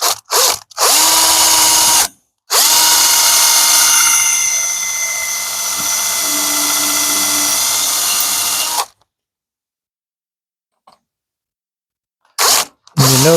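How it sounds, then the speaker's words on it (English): A power drill bores into material at a slight angle, running in loud sustained bursts with brief stops, then a long whining run of several seconds before it cuts off into silence, with short starts again near the end. "And then we drill these down the middle."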